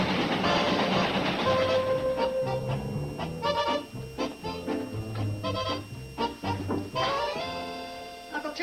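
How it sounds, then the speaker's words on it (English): A train pulls into a station, a loud rumbling approach settling into clanking and rattling with rising tonal squeals and hisses, steady and close, with no talking. "The train's in."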